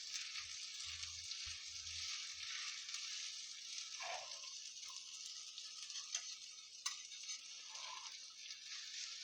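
Seer fish pan-roasts on a tawa in nothing but its own oil over a low flame, giving a steady, faint, close sizzling hiss with a few small ticks and no voices.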